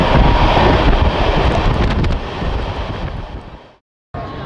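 Netaji Express LHB train rushes along at high speed, a loud roaring wind-like rumble that eases slightly before cutting out briefly and resuming.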